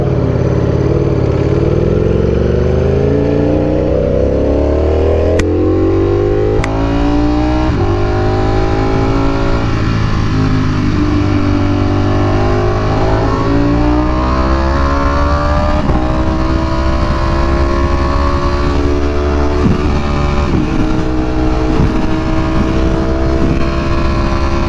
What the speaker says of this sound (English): Finally, it sounds like a real bike.